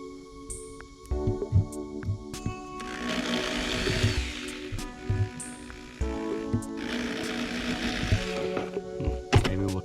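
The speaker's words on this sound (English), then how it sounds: "I think looks like I need to drill this top half out as well." Drilling out a pinion bearing on a Ford 8 inch third member: two sustained bursts of loud, grinding power-tool noise, up close, separated by clanks and handling sounds, with no talk.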